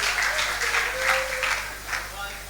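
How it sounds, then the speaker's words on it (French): Applause from a church congregation, a continuous wash of clapping hands at moderate volume lasting throughout, with a voice speaking faintly beneath it. "Can we clap for them?"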